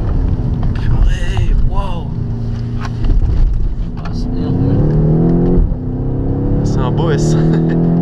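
BMW X6M V6-engined SUV lapping the Pau-Arnos race circuit, its engine rising and falling through revs with shifts and cornering, loud and close inside the cabin under steady wind noise while people talk over it.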